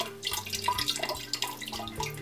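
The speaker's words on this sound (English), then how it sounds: "the cat can drink from the falling water stream in here." Water trickles and drips from the faucet spout of a splatter-free ceramic pet drinking fountain into its bowl, a steady close splashing with irregular drip accents, no talking.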